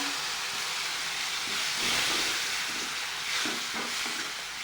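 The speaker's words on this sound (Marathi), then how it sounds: "टोमॅटो व्यवस्थित तेला तेलामध्ये भाजून घ्यायचा आहे" Chopped tomato fries in oil with spice masala for a spicy cauliflower curry, giving a continuous loud close sizzle and hiss with stirring scrapes rising and falling throughout.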